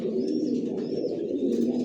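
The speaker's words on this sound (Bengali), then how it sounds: "আমার লফটের সব একই লাইনের কবুতর পালি" Racing pigeons of a single Johnson long-line racer strain coo steadily inside a home loft, a soft continuous low burble from several birds close by, with no talking.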